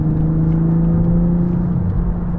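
Engine of a 2023 Toyota GR Supra accelerating, a loud continuous car whir with a steady low drone and tone slowly shifting, no talk.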